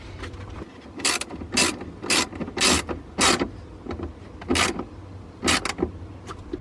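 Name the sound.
ratchet tightening a bolt on a BMW G80 M3 exhaust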